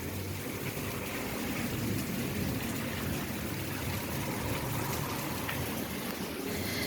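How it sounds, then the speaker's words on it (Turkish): Rain falls in a steady, even hiss with no break or change in level, moderately soft and close, and no voices or other sounds rise above it. "şöyle yağmur yağarken e, bir hoşuma gitti"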